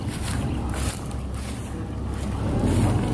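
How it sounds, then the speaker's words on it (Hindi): A combine harvester unloads wheat into a tractor trolley in a field, producing a steady, loud, broad engine and machinery roar that swells slightly toward the end, with wind buffeting the microphone. "कंबाइन मशीन द्वारा उस एक ट्रैक्टर की ट्रॉली में उस गेहूं को ट्रांसफर कर दिया जाता है"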